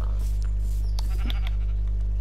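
Sheep in the Minecraft video game bleat in a few short calls over a steady low hum, with no one talking.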